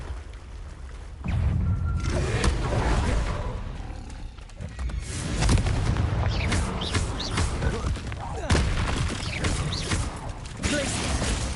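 Repeated Confringo blasting-curse explosions from Hogwarts Legacy, several sharp crashing bursts over a rumbling roar of game combat, with a voice shouting spell names between them.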